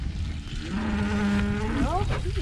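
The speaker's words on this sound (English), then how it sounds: "These are all our mama cows that we've had for a while." A cow lets out a single drawn-out moo that rises at the end, heard fairly close against a noisy outdoor background.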